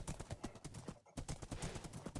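Rapid, rhythmic hoofbeats from a Minecraft horse in the video game, a quick steady clip-clop that pauses briefly and resumes, fairly soft with no talking.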